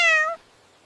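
A cat gives one short, clear meow, close and fairly loud, that cuts off quickly into near silence.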